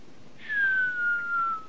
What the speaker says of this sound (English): I'm playing with a whistle, rather.